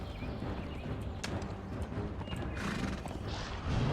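A horse in the video game Conan Exiles whinnies and neighs while its hooves clop steadily, loud and close against a busy game soundscape with no talk.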